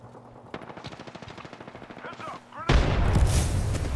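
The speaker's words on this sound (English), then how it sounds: "Oh, that grenade got me." A grenade blast in an online squad-based shooter match, a sudden loud broadband burst near the end that follows a stretch of rapid, regular gunfire with a faint voice underneath.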